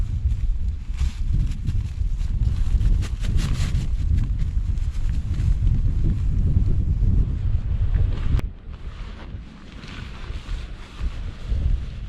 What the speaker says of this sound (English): there's still a good bit of wind coming through